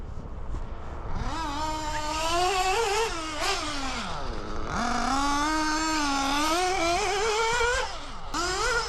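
O.S. Speed AD3 nitro engine on its first run, a loud, high-pitched whine that revs up and down repeatedly with sweeping pitch changes, close and continuous.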